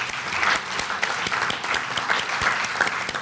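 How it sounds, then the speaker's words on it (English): Audience at an evening political debate applauding, a steady patter of many hands clapping at moderate distance, with no talk over it. "let's show applause for our panelists"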